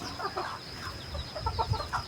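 A small-voiced fighting rooster and chickens give short, scattered calls and clucks nearby, with a thin steady whine running in the background.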